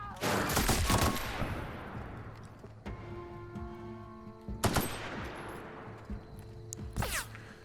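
Bursts of gunfire in The Outer Worlds: Spacer's Choice Edition, with dense rapid volleys at the start, around the middle and at the end. Fainter single shots and ringing tones fill the gaps between volleys.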